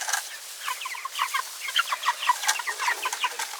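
Thirsty, hungry meat chickens on a homestead cluck steadily in short, busy bursts as the flock crowds around water and feed, many birds close together with no talk.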